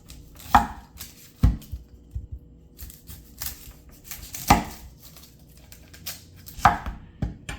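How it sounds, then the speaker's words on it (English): Knife slicing through sweet onion on a cutting board, four or five sharp separate chops with quiet pauses between, close and alone. "There, and one slice of sweet onion."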